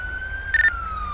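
Ambulance siren in a FivePD police-mod video game: a steady wailing tone that slowly falls in pitch, with a brief louder burst in the middle, heard alone without talk.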